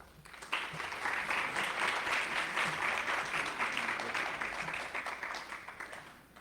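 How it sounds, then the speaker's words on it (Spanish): An auditorium audience at a World Refugee Day event breaks into sustained applause, a dense wash of many hands clapping that swells quickly, holds steady and thins near the end. "Pido un fuerte aplauso para cada uno de ellos."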